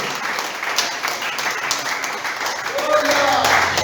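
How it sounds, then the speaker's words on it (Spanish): A church congregation claps during a service, a steady wash of applause that grows a little louder toward the end while a voice speaks over it. "Aplauda al que vive."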